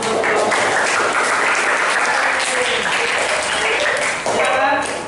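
A classroom group gets steady, loud applause from many hands clapping together, with voices mixed in beneath the clapping.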